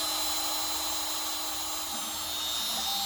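Steady high-pitched whine of a CNC spindle resizing dowel pin holes in a guitar neck, running continuously and fairly loud with no talk.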